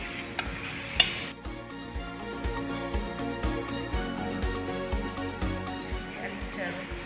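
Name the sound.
stirring flour mixture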